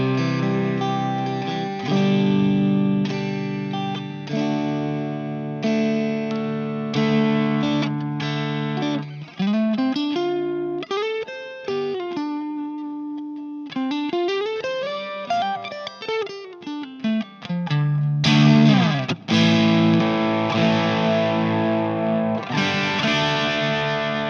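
Electric guitar played through a Two Notes ReVolt amp simulator with a Marshall-style tone, moving from driven chords into lighter, cleaner single-note lines and bends, then back to thick distorted strumming, loud and continuous with no talking.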